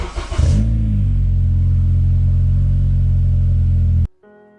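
A 9th-generation Honda Civic Si fitted with a KTuned 3-inch exhaust and a homemade silencer, blipped and then held at a steady, droning idle-rev, loud and close, cutting off abruptly near the end.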